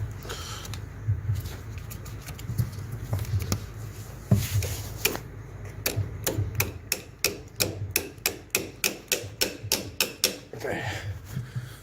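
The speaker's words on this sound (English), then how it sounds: "You need a little hammer." A small hammer taps a part into place in the engine bay of a VW Golf Mk6 GTI with an EA888 TSI engine, a quick series of sharp metallic knocks speeding up near the end, over low mechanical hum, with someone speaking at times.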